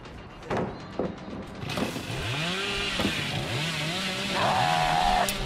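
A chainsaw revs in a video game, its engine pulsing in repeated rising-and-falling bursts, starting after a few sharp knocks and building into a steady loud drone near the end.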